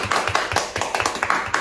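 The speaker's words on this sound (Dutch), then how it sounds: "Applaus." Several people clap in a quick, fairly even rhythm, close by and loud, with no talking over it.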